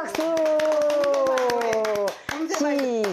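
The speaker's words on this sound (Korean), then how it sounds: "박수 박수 박수." Several people clap their hands in a steady, fairly quick rhythm at home, loud and close, while a sustained sung or chanted voice carries over the claps.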